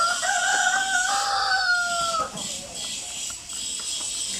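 A native rooster crows loudly near the start, and native chickens cluck and murmur throughout against a steady outdoor background.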